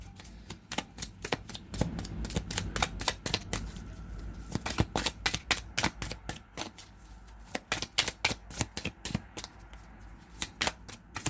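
Tarot cards being shuffled and drawn make a long run of quick, crisp riffling flicks and slaps, close and fairly soft, in irregular bursts with no talk.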